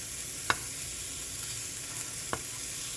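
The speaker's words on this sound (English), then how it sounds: "Put this fry this onion up." Thinly sliced onion frying in a pan for an Oklahoma onion burger, a steady faint sizzle running throughout with two brief sharp clicks of utensil contact.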